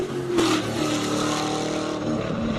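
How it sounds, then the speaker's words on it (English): A 7-liter LS-powered V8 race car at the Cape Town hillclimb accelerates hard, its loud engine roar surging near, then holding a steady droning note for a few seconds. "Big Mac Lady, 7-liter V8 LS power."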